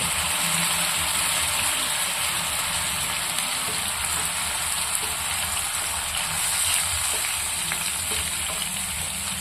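A tomato, ginger, garlic and onion paste sautéing in oil over a low flame, giving a steady, even hiss and sizzle that runs without break, close and moderately loud with no talk.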